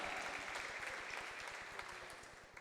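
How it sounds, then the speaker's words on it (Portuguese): Congregation clapping together in a church service, a steady rhythmic applause with a low pulsing beat throughout, fairly faint and distant with no voices. "Dê uma salva de palmas ao Senhor."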